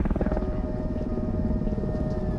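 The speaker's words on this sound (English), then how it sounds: "That is a helicopter." A helicopter in the submarine game Cold Waters gives a steady, low, throbbing rotor drone with a faint thin tone above it, constant and moderately loud throughout.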